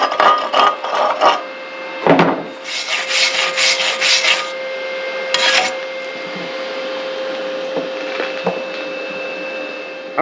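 A practice bead is stick-welded with a Sefaspe ARC 200 PRO welder running on 110 V. Close, loud hissing and crackling comes in bursts over a steady electrical hum, with no talk.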